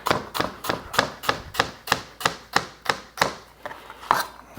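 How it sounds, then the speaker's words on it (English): A knife chops vegetables on a board for red lentil dal, about a dozen crisp, evenly spaced strikes at close range with nothing else heard. "Just give it a chop through."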